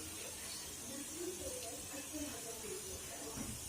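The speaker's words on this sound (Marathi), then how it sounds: "हे आपण पापड तळून बघूया" Poha papad frying in hot oil gives off a faint, steady sizzling hiss with soft bubbling, and a voice murmurs quietly underneath.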